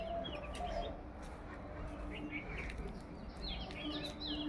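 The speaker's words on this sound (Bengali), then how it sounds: "আর দেখছি পাখিগুলো ডাকছে, কি সুন্দর।" Birds call and chirp outdoors, some sounding like a clucking hen, under a steady background hum, with occasional brief voices.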